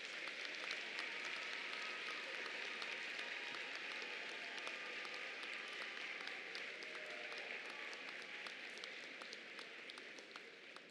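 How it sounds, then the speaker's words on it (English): Graduates at a university commencement ceremony applaud in a large hall, a sustained wash of clapping that stays fairly soft and distant, tapering slightly toward the end. "Please turn and applaud your families, friends, and loved ones, and show your appreciation for their support."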